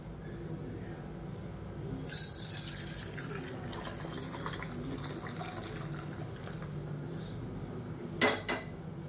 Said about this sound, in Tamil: இப்போ இந்த ரசத்தை எடுத்து அப்படியே நம்ம இந்த பாத்திரத்தில் ஊற்றிடலாம்